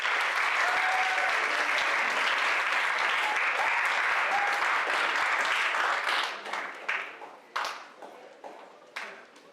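Audience applause at a leadership summit, a dense sustained clapping from a large crowd that thins out into scattered individual claps over the last few seconds.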